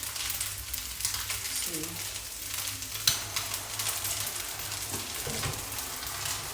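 Vietnamese rice noodles (hu tieu xao) are left frying in a pan until they char, with a continuous crackling sizzle, an occasional stir clatter and a brief spoken word.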